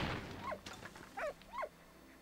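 A dog in the World War I video game Valiant Hearts gives a few short, faint barks and whimpering yips, three brief calls spaced apart over a low background.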